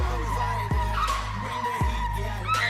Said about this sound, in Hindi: और फर्स्ट टाइम में ड्रिफ्टिंग शुरू कर दी।